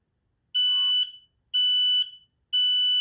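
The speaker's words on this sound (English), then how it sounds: "the smoke levels are too high, and the alarm sounded again" An X-Sense SC07-W combined smoke and CO alarm sounds three loud, piercing electronic beeps, evenly spaced about a second apart, with silence between each pulse.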